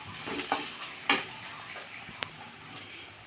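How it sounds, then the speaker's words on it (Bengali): Potatoes being sautéed and stirred with spices in a pan, a steady close sizzle punctuated by a few sharp scraping strokes of a spatula, moderately loud and without talking. "আলুগুলো দিয়ে বেশ করে একটু কষিয়ে নেব।"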